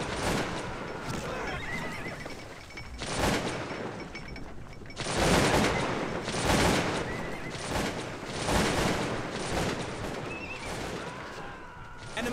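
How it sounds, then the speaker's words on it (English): Troops open fire in the Cossacks 2 video game, with broad crackling volleys that swell and fade in waves, mixed with horse whinnies and hoof clatter, loud and dense throughout. "Opened fire!"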